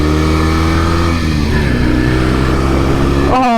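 A 1968 Norton Commando 750 motorcycle cruising on the highway, its engine droning loud and steady up close with a smooth rising pitch, then a quick rev change at the end.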